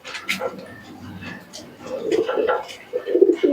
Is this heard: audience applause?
no